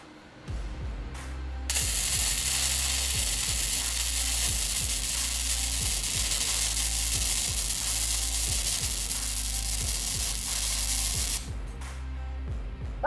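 A Lincoln Electric LE31MP welder lays a bead, giving a loud, steady crackling sizzle that starts abruptly and runs for about ten seconds before cutting off, with faint mechanical clicks underneath.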